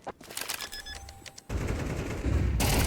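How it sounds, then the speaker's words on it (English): Gunfire in a Counter-Strike 2 esports match, with scattered shots and clicks giving way to a dense, loud burst of rapid automatic fire, then another sharp volley at the end. "Kaspersky gets a frag, but Nate Yu falls, and that's a 4-on-4 as Fleeve does one more"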